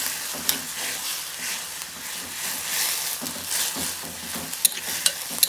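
Pumpkin leaves sizzle and fry in a pan for a home-style stir-fry, with steady hissing and intermittent scraping stirs; a few sharp utensil clinks punctuate the end.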